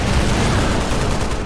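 Heavy cannon fire from a Hunter in the Halo Reach video game, a dense continuous barrage of loud booming blasts filling the whole moment without pause.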